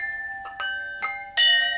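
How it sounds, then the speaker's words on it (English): Homemade wind chimes ring in a few loose clusters of bright, sustained metallic tones, fairly close and with no talking, the last strike louder than the rest. "These are my wind chimes."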